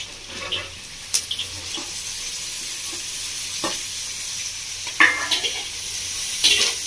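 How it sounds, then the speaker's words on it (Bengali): Pointed gourd (potol) and onion frying in a pan, a continuous bright sizzle with a spatula scraping and stirring every second or two, close and fairly loud, no talking. "পটল আর পেঁয়াজটাকে ভালো করে ভেজে নেব।"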